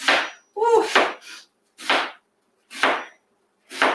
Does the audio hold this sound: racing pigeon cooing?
no